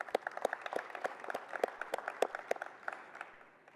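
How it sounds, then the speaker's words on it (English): Football players at a college media day clap together in a quick, fairly steady rhythm of distinct hand claps. The clapping is moderately close and tapers off after a few seconds. "I want each and every player in here to give yourselves a round of applause."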